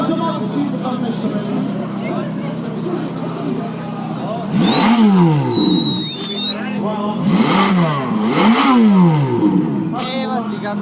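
An engine revs hard three times in a row, its pitch climbing and falling with each throttle burst, while people talk nearby over a steady idle.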